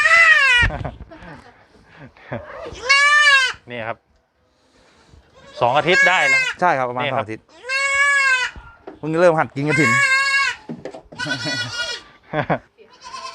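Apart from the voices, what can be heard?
young crossbred goats bleating on a goat farm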